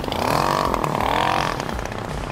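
A motorbike engine revs hard and holds high, the pitch rising and sagging while the rider tries to pull a wheelie, loud and close with some rattle, then it eases off to a lower steady drone.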